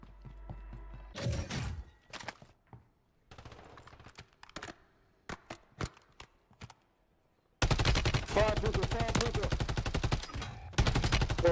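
Gunfire in Call of Duty on Rebirth Island: scattered single shots and short bursts, then sustained rapid fire, loud and close, with game mechanism clicks and occasional voice chat underneath.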